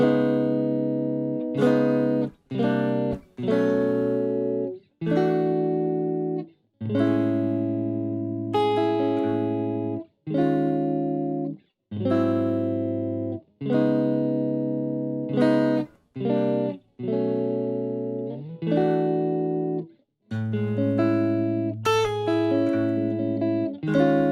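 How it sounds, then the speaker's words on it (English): Electric guitar strums a sequence of sustained chords, each ringing for a second or two with brief gaps between changes, loud and close, no voices. "So the whole chord progression should sound like this."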